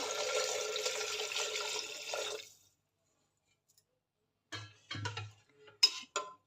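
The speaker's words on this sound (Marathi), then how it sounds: "आता ह्यामध्ये 2 ग्लास पाणी घालते." Water is poured from a glass into a pressure cooker of carrots for soup: a steady splashing pour for about two seconds, then silence, followed by a few faint clinks and drips.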